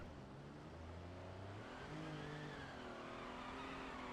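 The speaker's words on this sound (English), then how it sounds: "It's wheel spin city right now" A kei truck's engine revs high and climbs through rising tones as the tyres spin on a loose surface, a continuous whining drone heard at a distance.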